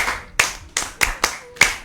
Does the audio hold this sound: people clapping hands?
yes